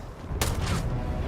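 A single sharp gunshot blast in the video game Starfield, close and loud, with a brief rumbling tail over a steady low background.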